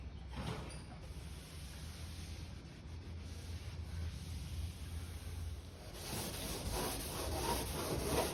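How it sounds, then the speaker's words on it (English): Scuffing a laminate surface with a Scotch-Brite pad, a steady close abrasive rubbing and scratching that runs throughout and grows louder and coarser toward the end. "I also scuffed up the laminate surface with a Scotch-Brite to give the surface a little bit of tooth"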